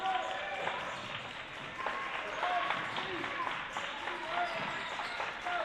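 At a girls' varsity basketball game, the Botkins bench and crowd clap amid gym noise, with sneaker squeaks and a broadcast voice talking over the steady applause.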